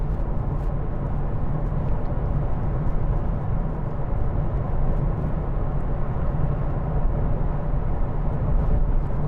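A 2011 Vauxhall Corsa 1.2i 16v is on the move, with a constant broadband road and engine roar heard from inside the cabin, steady and unbroken throughout, with no talking.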